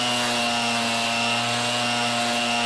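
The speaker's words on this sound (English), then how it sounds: "More sanding, more shaping." A wooden baseball bat is sanded and shaped, a continuous steady rasping drone with constant tonal hum from the machine and no pauses.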